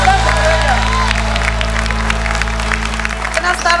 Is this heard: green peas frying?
no